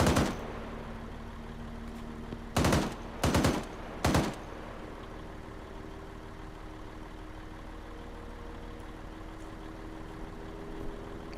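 In a military video game firefight, several sharp, close bursts of automatic gunfire sound in quick succession and then stop, leaving a low engine-like hum.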